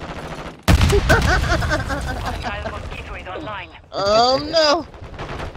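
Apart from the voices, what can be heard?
gunfire in a video game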